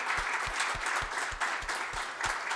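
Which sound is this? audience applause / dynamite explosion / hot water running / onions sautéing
audience applause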